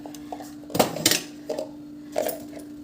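Steel dishes and utensils clatter as they are stacked into a kitchen cupboard, a few sharp metallic clinks and knocks in irregular bursts, close by, with a steady background hum.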